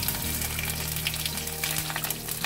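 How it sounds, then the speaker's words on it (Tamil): Garlic cloves drop into hot oil already holding mustard seeds, fenugreek and a little urad dal for a South Indian tempering, giving a steady, close sizzle and crackle that runs unbroken with no voices. "இப்போ நம்ம கட் பண்ணி வச்சுருக்க பூண்டு பல் அதை போட்டுடலாம்"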